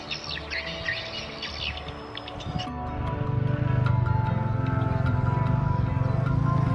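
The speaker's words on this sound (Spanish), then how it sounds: "el sonido que hacen estos pájaros es muy fuerte y muy raro" Loud, strange bird calls in rural Vietnam, with bright chirping phrases in the first few seconds before a steady low rumble, likely a motorbike or engine, takes over and masks them.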